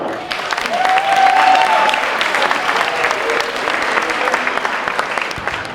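Audience applause at a high school senior banquet welcoming the principal to the podium, a dense, steady wash of clapping from a large crowd with a brief tonal sound rising above it early on.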